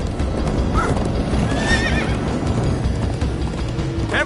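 Horses in the video game Minecraft Story Mode gallop with rapid clip-clop hoofbeats while one neighs shrilly midway, loud and close against a busy rumbling background, with no talk.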